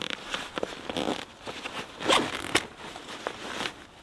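The zipper of an Osprey Kestrel 48 backpack being pulled open in several short rasping strokes, close up, with light rustling of fabric between pulls.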